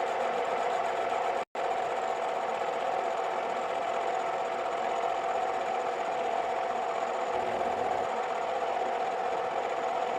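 A machine runs steadily with its auto feed engaged while taking the lightest cut on a folding shovel handle, a constant mid-pitched mechanical hum with a brief dropout near the start and no talk.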